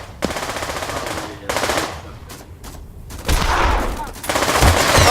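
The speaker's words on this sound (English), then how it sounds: "This might be one of those guns that falls out of your hands when you shoot it." Video game gunfire from a gun that has to be cocked, heard as loud bursts of rapid shots with brief pauses between them.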